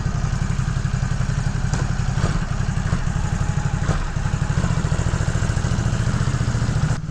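Motorcycle engine heard from inside a helmet with the visor open, a steady close low-pitched rumble that runs continuously and fairly loud throughout, with no talking.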